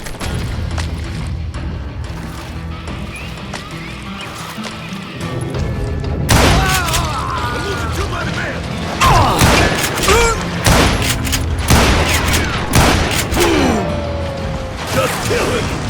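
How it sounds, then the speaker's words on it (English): A Call of Juarez: Gunslinger shootout against the Dalton Brothers' gang fills with rapid volleys of gunshots and booming impacts. The bursts grow louder and denser partway through, with creaks and gasps mixed in. "a fusillade of bullets come raining down from on high"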